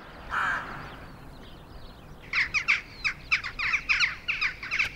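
Rooks and jackdaws calling in a flock over open countryside: one early call, then a rapid run of harsh caws and chacks, fairly close and clear, with no talking.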